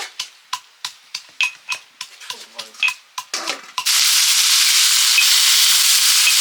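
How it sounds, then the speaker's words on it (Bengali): Potatoes frying on a tawa griddle: a series of quick metallic scraping and tapping strokes, then a loud, continuous close sizzle that fills the rest. "আজকে আমাদের তাওয়াতে আলু ভাজা হচ্ছে"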